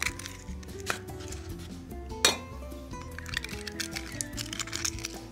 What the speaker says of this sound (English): I'm gonna crack 8 eggs in here.